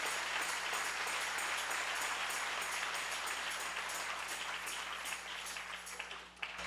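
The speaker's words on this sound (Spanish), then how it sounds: "Denle ese aplauso al Rey en esta preciosa mañana." A church congregation applauds steadily during a sermon, a dense wash of many hands clapping that tapers off near the end.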